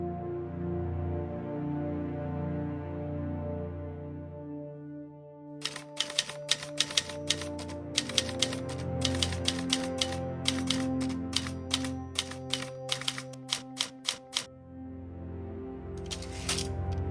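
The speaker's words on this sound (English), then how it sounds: "I had a label maker, and the typewriter feel of it made sense to me." A label maker printing a name tag clicks and clacks in rapid, irregular typewriter-like bursts, close and crisp, over a soft background of music, with a brief return of the clatter near the end.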